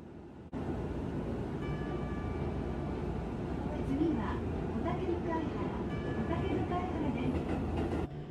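A busy Seibu train pulls away from Nerima station toward Ikebukuro. A steady, loud rolling rumble and rail noise fill the whole stretch, with faint clatter over it.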